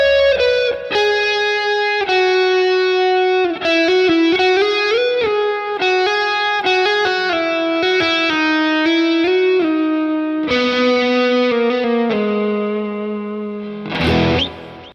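Electric guitar plays the outro solo of a song, with a distorted, effects-laden tone and chorus and echo. Loud sustained lead lines with bends run continuously for the whole stretch.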